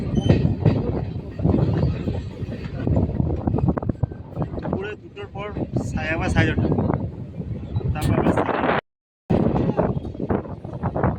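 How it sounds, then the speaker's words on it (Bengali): A train pulls slowly out of Karjana station, its rumble and wind noise running continuously beneath a person talking, with a brief dropout near the end. "আমাদের ট্রেন এখন ধীরে ধীরে করজনা স্টেশন ছেড়ে বেরিয়ে যাচ্ছে"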